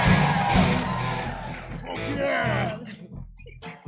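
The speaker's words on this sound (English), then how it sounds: "I know you're all cheering for those high numbers" Live crowd at a Gen Con tabletop show for Gods of Metal: Ragnarock, whooping, yelling and cheering loudly and continuously, with voices mixed in, fading toward the end.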